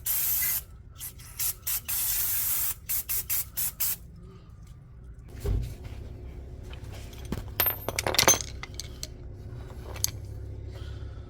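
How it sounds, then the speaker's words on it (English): Brake cleaner sprayed onto the front brakes of a 2017 Mercedes GLC 300, several close, loud hissing bursts of aerosol in quick succession, followed by quieter metallic clinks and handling noises. "Just gotta shoot it with some brake clean first."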